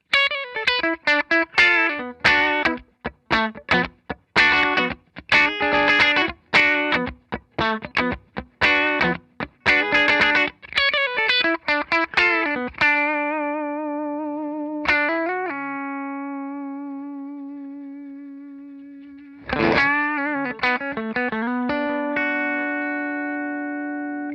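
Electric guitar through a heavy compressor pedal, with a squashed, even tone, plays quick choppy notes, then lets several chords ring out long and sustained, alone without voices.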